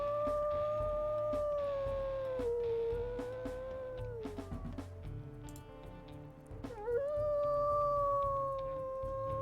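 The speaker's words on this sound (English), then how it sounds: "Let's listen to your howls, love. It looks like she shares a howl with her sister." Wolf pup howls in the video game WolfQuest Anniversary Edition, two long wavering tonal calls, one after another, with a low looping game background underneath and no talk.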